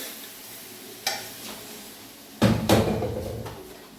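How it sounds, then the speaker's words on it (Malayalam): Cooked beef being stirred in a frying pan for a beef roast, a couple of light scrapes followed by louder spoon-on-pan scraping and soft sizzling, close and without talk. "ഇനി നമുക്കത് നന്നായിട്ട് ഇളക്കി യോജിപ്പിക്കാം"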